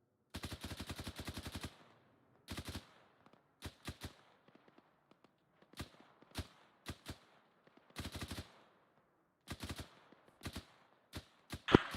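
Gunfire in a military video game: a long rapid automatic burst opens, followed by scattered short bursts and single shots spaced through the quiet, crisp and fairly near, with no talking.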